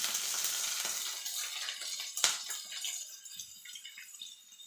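Garlic cloves frying in a pan, a close hissing sizzle with a sharp burst partway through that fades steadily toward the end.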